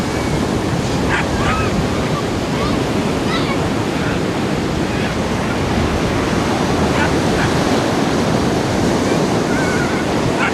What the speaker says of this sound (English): you can just see a small expanse of the beach, and the breakers rushing in